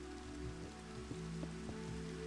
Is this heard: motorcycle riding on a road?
no